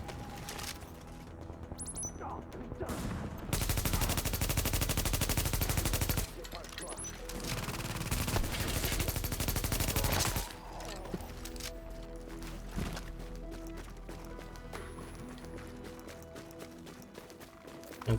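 Video game gunfire in The Division, repeated automatic bursts and single shots, loud and sustained in long volleys with shorter pops and game effects in quieter stretches.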